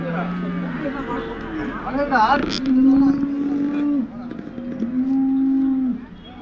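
Holstein Friesian cows at the Namakkal weekly cattle market give several long, low moos close by, with people talking underneath.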